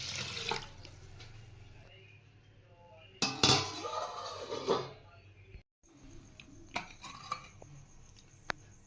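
Rice being washed by hand in water in a kitchen for idli batter, with running tap water, splashing and occasional clinks of a vessel, fairly close and loud with brief pauses.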